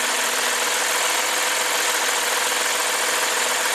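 A 2015 Lexus IS250 V6 idles high at around 2,100 RPM, a dense steady engine roar with no pauses, loud and close, alone with no voices.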